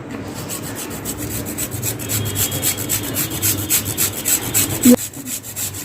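Alu vadi batter with grated jaggery mixed by hand, giving a steady, close, wet squelching and rubbing texture that repeats rhythmically, ending with a brief clunk; no speech.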